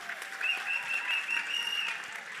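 An audience at a Kigali show claps for the singer, a fairly faint, even patter of hands heard at a distance, with a high tone holding over the clapping.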